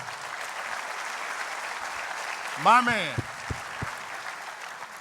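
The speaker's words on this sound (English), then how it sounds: "Give that man a round of applause." Steady, continuous applause from a convocation audience at William Penn University, filling the room, while someone briefly speaks over it midway.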